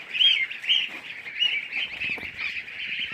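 Geese calling on a countryside goose farm, repeated honks and chirping calls from a group nearby, fairly quiet with no talk.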